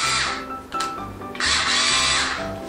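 A Bosch IXO4 Plus cordless screwdriver runs in short bursts with a fairly quiet, high whirring motor whine, dipping briefly between runs before spinning up again close to the listener.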